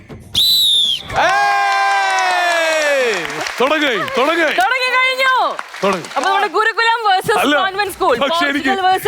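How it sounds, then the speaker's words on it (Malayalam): A shrill whistle rings out briefly on a singing show stage, followed by a long, loud sliding vocal sweep and lively singing or chanting voices. "ചേച്ചി വിസിൽ അടിക്കുന്നു."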